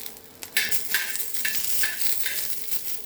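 Chickpeas and garlic for chutney sizzle in a hot pan, with steady frying hiss and a series of sharp stirring scrapes spaced through the clip.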